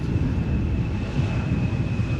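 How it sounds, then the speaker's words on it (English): An Embraer 175 airliner arriving at Amsterdam Schiphol Airport gives a steady, fairly loud broadband jet roar with a faint sustained whine, heard from outside with wind buffeting. "this is an Embraer 175"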